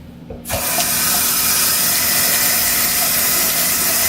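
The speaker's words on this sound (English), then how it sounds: "And I'll just run it in that warm water here." Warm water runs from a bathroom tap over makeup brushes, a steady, loud, even rush that starts abruptly and continues without pause.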